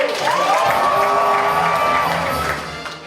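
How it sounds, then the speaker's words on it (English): Audience cheering and whooping at a live improvised Dungeons & Dragons comedy show, a loud sustained roar of crowd voices with shouts that fades slightly at the end. "I'd love to just listen to the cheering, it's really great"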